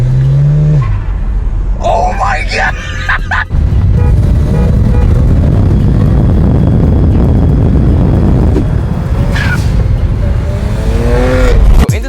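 A BMW E92 with a single top-mount turbo drives hard with a loud, sustained engine roar and brief tire squeals at the start and end, while an excited voice exclaims over it.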